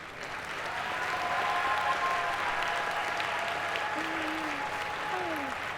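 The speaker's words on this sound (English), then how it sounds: "Our virtual middle college scholars, please, a round of applause." An audience at a dual enrollment recognition ceremony gives graduating virtual middle college scholars a swelling round of applause that holds steady, with faint voices rising over it.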